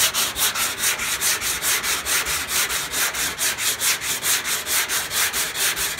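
Hand sanding of auto body filler or panel during bodywork, steady back-and-forth rubbing strokes in a close, even rhythm, roughly three per second, with no talking.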